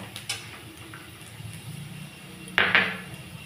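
Fried bottle gourd peel with poppy seeds is stirred in a pan, making sparse, soft scrapes and taps of a spoon against the pan, plus a sharper clatter near the end, over a low background hum.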